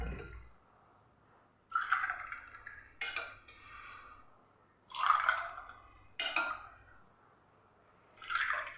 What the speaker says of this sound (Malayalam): ഇനി നമുക്കിതിലേക്ക് ഈ ഒരു ഡ്രിങ്ക് ഒഴിച്ചു കൊടുക്കാം